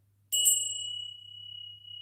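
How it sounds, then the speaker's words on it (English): A single bell is struck once and rings out clear and bright, its pure tone sustaining and slowly fading over two seconds with no talking over it. "So I'm going to ring the bell"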